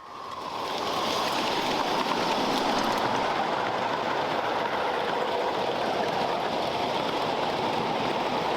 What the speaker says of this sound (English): Right behind East Broad Top is Ryan Rivetto at the throttle of John's C&O 475, headed through Adirondack Junction into Phantom Tunnel